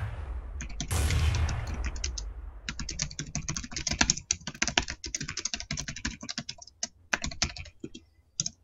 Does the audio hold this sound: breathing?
no